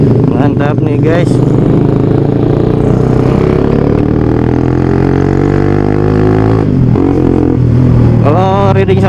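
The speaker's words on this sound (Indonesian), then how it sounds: "Kalau riding sama motor-motor besar kayak gini, enaknya itu mereka selalu ngegas." Big touring motorcycles, including a Kawasaki Ninja, accelerate in a convoy, their engines roaring loud and close with rising revs, clatter and overlapping exhaust notes throughout, with a brief dip before climbing again.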